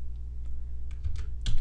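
Someone types on a computer keyboard, producing a quick run of close, crisp key clicks over a low steady hum, with a louder cluster of keystrokes near the end.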